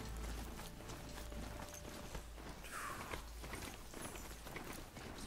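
Galloping hoofbeats of a ridden mount in Horizon Zero Dawn, a steady, fast, low thudding rhythm running throughout at moderate level, with mechanical creaks and ambient game noise layered on top.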